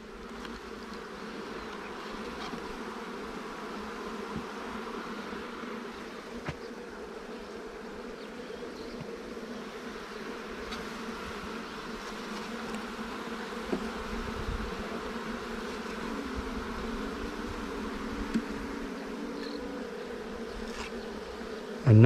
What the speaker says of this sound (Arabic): النحل ضايج مش بعقل.